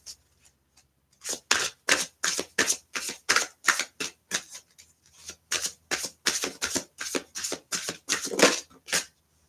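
Tarot cards shuffled by hand: a long run of quick, crisp riffling bursts in a steady rhythm, close and clear, with no talking.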